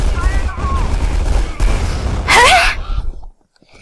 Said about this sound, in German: Mann, diese Waffe verleitet voll zum Sprayen.